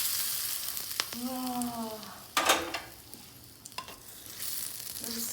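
Tadka spices with red chili sizzle and crackle steadily in hot oil while being stirred, a loud, close, continuous frying hiss, with a brief voice exclaiming partway through.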